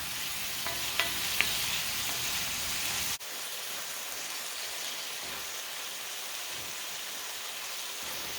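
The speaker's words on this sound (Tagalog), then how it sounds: "Cook the meat a little bit, like 3 minutes, 5 minutes before we add the ampalaya" Sirloin beef steak sizzles steadily in a hot pan, a dense crackling hiss with a couple of sharp clinks early on, then a slightly quieter continuous fry for the rest.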